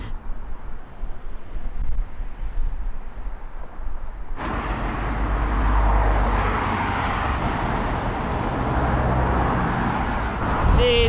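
Road traffic roaring past on a roadside near the West Highland Way, a broad steady wash of vehicle noise that swells sharply partway through as a louder vehicle passes close, mixed with wind buffeting the microphone.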